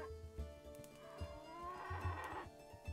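Cattle calling in the Clanfolk video game, a soft, low mooing call drawn out over a quiet farm background with faint scattered thumps, distant and gentle, no talk.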